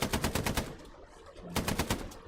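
Rapid machine-gun fire from a tank in a video game, two loud bursts of evenly spaced shots separated by a short pause.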